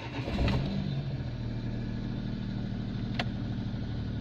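A car engine idles just after a cold start, with a steady low mechanical hum and a slight rise in revs near the beginning, and a brief click partway through.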